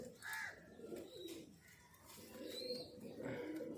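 Pigeons coo nearby in soft, repeated throaty calls, with faint background chirps and no talking.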